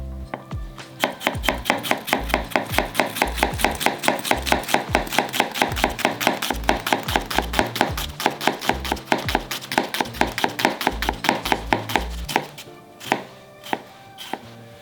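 A chef's knife taps rapidly and rhythmically on a cutting board, making a long run of evenly spaced close chops as incisions are cut for mincing, with no talk.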